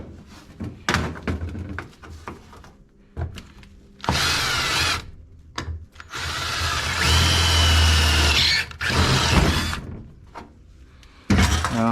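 A hand grinder cuts flame designs into a chopper motorcycle's fuel tank in several loud, close bursts of whining grinding, separated by short gaps with clanks and handling noise.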